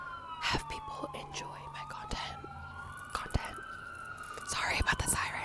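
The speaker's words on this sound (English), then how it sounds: "Sorry about the sirens" Emergency vehicle sirens pass outside, wailing faintly up and down in the distance behind a soft whispering voice.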